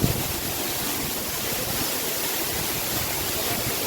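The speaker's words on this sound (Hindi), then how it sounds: "देख ये हूँ वाटरफॉल" Steady broadband rush of Jhinkra waterfall, constant and fairly even throughout, with no voices.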